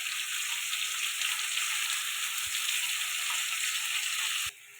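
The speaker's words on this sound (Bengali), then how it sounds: "ওই তেলে আলুটা ভেজে নেব।" Potatoes with salt and turmeric sizzle in hot oil in a pan, a steady bright hiss with a couple of faint knocks before it suddenly drops off at the end.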